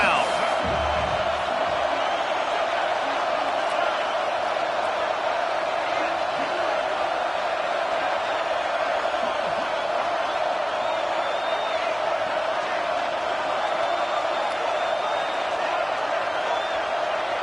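Stadium crowd at an Ole Miss football game, a dense, loud, sustained roar of many voices filling the venue, with an announcer talking over it.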